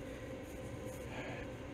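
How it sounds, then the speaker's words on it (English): A quiet, steady mechanical hum with a low rumble and airy hiss, like an extractor fan running continuously in the background. "I've turned on the extractor fan here just in case"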